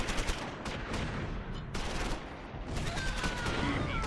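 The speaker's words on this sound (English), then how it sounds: "Good hit with the mortar." Mortar and small-arms fire in the Close Combat V World War II strategy game, with dense, continuous bursts of gunfire and heavy blasts overlapping throughout at a steady, loud level.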